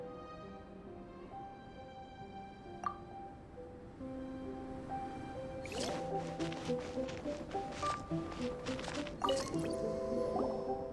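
Liquid sounds from Genshin Impact, with water being poured or drunk: soft drips and squishy splashes over quiet game music, growing busier and more continuous in the second half.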